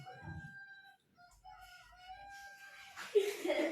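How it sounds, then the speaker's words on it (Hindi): Rooster crowing somewhere nearby, one drawn-out tonal call lasting a few seconds, followed by a burst of rustling noise. "मुर्गा कौन लेकर आया भाई यहाँ पर?"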